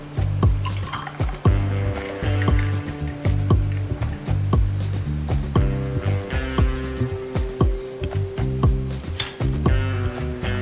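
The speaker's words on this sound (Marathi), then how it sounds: "आता आपण तयार केलेला ज्यूस टाकूया." Grape and lemon sherbet is poured into a glass, trickling and splashing over ice with a few faint clinks, while music plays in the background.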